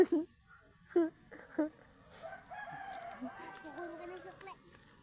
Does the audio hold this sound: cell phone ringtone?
no